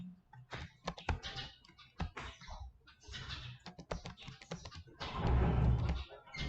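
Rapid clicking of computer keyboard keys as a password is typed, bursts of close, crisp keystrokes with brief pauses, ending in a denser flurry of taps.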